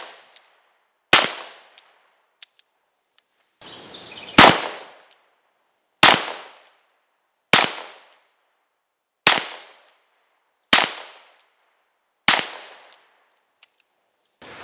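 A Ruger GP100 .357 Magnum revolver with a 5-inch barrel firing 170-grain lead loads: seven loud, sharp shots spaced about a second and a half apart, each with a short decaying echo.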